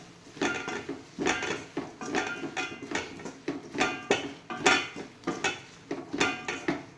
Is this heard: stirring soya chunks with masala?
yes